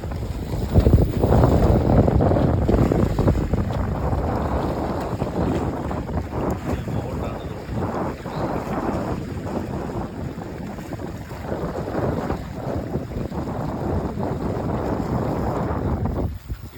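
A remote-controlled fishing bait boat runs out across open water, towing line. Its motor drones steadily and continuously, mixed with heavy wind buffeting and a faint wash of water, with no talking.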